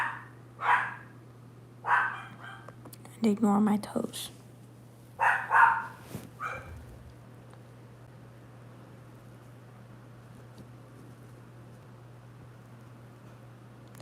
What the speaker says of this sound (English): the barking doggos